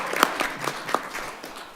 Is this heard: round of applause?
yes